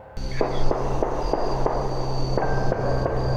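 Gunshots fired at a tree stump ring out from a played video, several sharp bangs in an uneven sequence over a steady background, with a louder pair of reports near the end.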